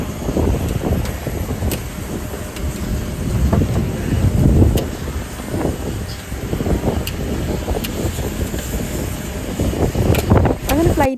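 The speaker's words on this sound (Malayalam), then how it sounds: "ഇവിടുന്ന് നല്ല കാറ്റടിക്കുന്നുണ്ടായിരുന്നു. അപ്പോൾ ഭയങ്കര സൗണ്ടായിരുന്നു." Strong, steady wind roars across an airport tarmac after stepping off a flight, with gusty microphone buffeting and a broad rushing noise that rises and falls for several seconds, loud and close.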